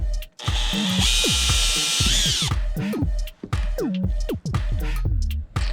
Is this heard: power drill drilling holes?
yes